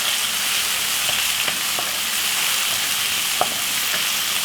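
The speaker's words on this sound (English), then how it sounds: "Pinch of coarse pepper. And give it a stir." Vegetables seasoned with coarse pepper fry in a hot pan, giving a steady loud sizzle with a few soft clicks of a utensil stirring through them.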